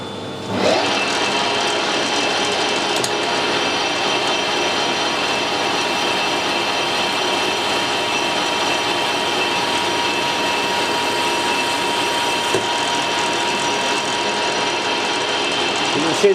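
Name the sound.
machining a parsnip, cutting chips off it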